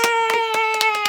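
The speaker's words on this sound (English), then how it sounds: "All the clapping." Hands clap in a quick, steady run of about seven sharp claps within a second, close and moderately loud, under a sustained high tonal voice or hum.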